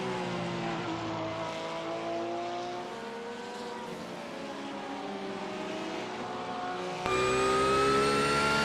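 A Porsche race car in a racing video game at the Nurburgring drones at high revs, its engine pitch gliding smoothly before a sudden louder, higher-pitched surge near the end, heard alone without talk.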